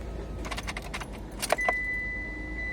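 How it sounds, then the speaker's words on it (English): A key turns the ignition of a Mitsubishi Lancer, with a burst of metallic jangling from the key ring, a couple of sharp switch clicks, then a faint steady electronic tone. "Now I'll put on the ignition."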